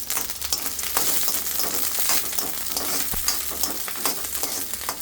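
Onions and green chillies frying in a pan are stirred, giving a dense, loud sizzle with scraping and rustling from the stirring, steady throughout with no voices.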